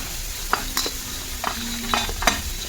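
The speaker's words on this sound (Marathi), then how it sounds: "कांदा भाजतोय तोपर्यंत आपण मटकी भाजून घ्यायचं. या साईडला मटकी थोडी भाजून घेऊया." Chopped onion and moth beans dry-roast together in a pan for Maharashtrian misal, giving a soft steady sizzle with a few scattered scraping stirs of a spatula at close range.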